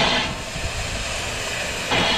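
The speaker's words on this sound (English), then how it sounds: "Steam coming out here and there." Steam escapes from steam locomotive 934 as a steady, loud broadband hiss. It runs the whole stretch with low rumbling beneath, and the hiss grows louder near the start and again at the end.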